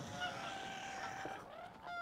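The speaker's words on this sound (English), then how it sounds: "No honking out there, Mr. Feathers." Geese honk in the video game Knights and Bikes, a steady run of nasal, overlapping calls lasting about two seconds with a short dip near the end, loud and close with no talking.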